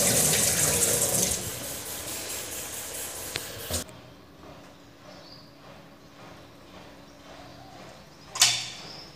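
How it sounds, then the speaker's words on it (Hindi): Running tap water pours over soaked food being washed in a home kitchen sink, a steady rushing stream for about four seconds before it cuts off, leaving quiet room noise and one brief splash near the end. "इसको अच्छी तरह से ना खूब सारे पानी से वॉश करूँगी,"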